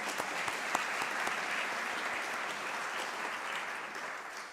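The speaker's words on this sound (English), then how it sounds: "A clap for Kenya, ladies and gentlemen." A crowd at a conference applauds steadily for Kenya, a dense, even wash of clapping hands that holds at a consistent level for several seconds.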